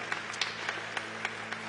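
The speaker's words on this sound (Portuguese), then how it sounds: "Vou pedir que você dê um aplauso ao coral de idosos aqui hoje" A church congregation applauds a seniors' choir with steady, moderately loud clapping from many hands throughout.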